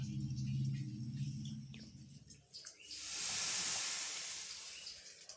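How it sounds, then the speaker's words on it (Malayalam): Tea boiling in a pot gives off a soft, steady hiss that swells midway and holds at a faint level after a low voice speaks briefly at the start. "നമ്മുടെ ചായ തിളച്ചു കിട്ടാ"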